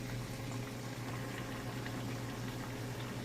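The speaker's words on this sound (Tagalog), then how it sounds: "So, pakuluan natin siya tapos lalagyan natin siya ng kaunting" A cooking pot of water, about to receive soy sauce for stir-fried kohol snails, boils steadily, with a constant bubbling roil at even loudness throughout.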